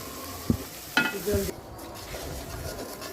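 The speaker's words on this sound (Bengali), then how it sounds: "মশলা কষানো গেছে" Turmeric, chilli and coriander masala fries with onions in a pan, a soft sizzle broken by several sharp stirring knocks and scrapes early on, then a quieter steady fry.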